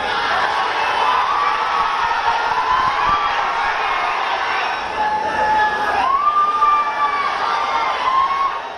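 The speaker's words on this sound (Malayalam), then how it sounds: "ആർപ്പുവിളികളോടെയാണ് ആരാധകർ താരങ്ങളെ വരവേറ്റത്." Fans greet arriving cricket teams at the domestic terminal of Thiruvananthapuram airport with a steady roar of crowd cheering, shouts and whoops that stays loud and dense throughout, with a few higher yells rising above the mass.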